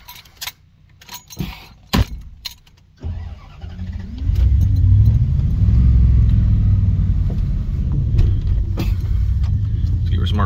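A 1990 Dodge Ramcharger 2WD with a questionable transmission starts with a few clunks and clicks, then its engine rumbles up loud and steady as the old truck revs and begins to move.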